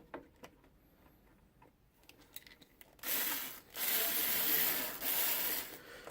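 A drill bit bores through a clear Lexan RC car body in two sustained bursts of loud, rough grinding, following a few quieter ticks and scrapes of handling.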